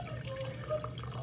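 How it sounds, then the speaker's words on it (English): Water draining out of a sink, a soft continuous trickle and gurgle with faint drips, close and fairly quiet. "I let the water out."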